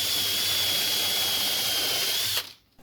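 A power drill bores screw holes in an arcade cabinet build, a loud steady whine held for over two seconds before it cuts off abruptly into near silence.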